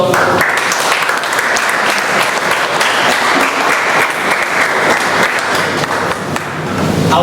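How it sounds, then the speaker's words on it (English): Audience applause at a Bombay Toastmasters club meeting, a dense continuous roar of clapping from a roomful of people, loud and sustained for several seconds. "So big round of applause for"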